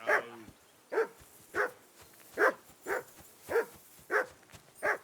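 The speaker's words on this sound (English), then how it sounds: "I assume you can hear that damn dog of yours barking." In Kingdom Come: Deliverance, a dog barks in a steady series of about eight sharp, evenly spaced woofs, fairly close and clear against a quiet background.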